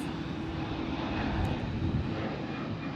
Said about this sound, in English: Oh, and there's another plane taking off.